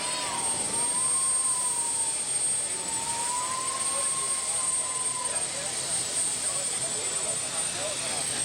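A turbine engine on a pulling tractor at a Colfax County Fair pull in Nebraska roars steadily with a high, thin whine on top. The sound is loud and continuous for the whole stretch, with a faint voice underneath.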